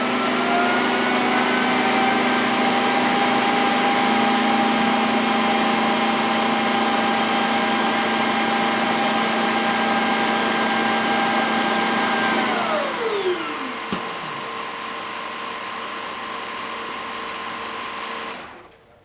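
Shark Matrix self-emptying robot vacuum dock sucks dirt out of the robot with a loud, steady high-pitched whine and roar that winds down near the end, leaving a softer hum before cutting off.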